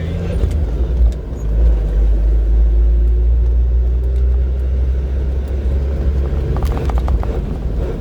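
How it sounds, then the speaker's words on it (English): A Jeep CJ cruises along winding roads past an old mining town, its engine a steady low rumble throughout with constant road noise and a few faint clicks near the end. "now we're just cruising in our CJ"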